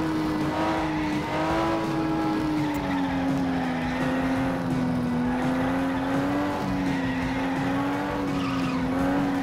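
A car engine drones loud and steady in the FlatOut racing game, holding a high, slightly wavering pitch throughout, with faint scrubbing tire noise underneath.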